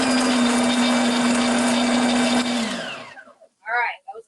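A food processor pulses pistachio pesto ingredients, a loud steady motor whir running about two and a half seconds before winding down, followed by brief faint clatter.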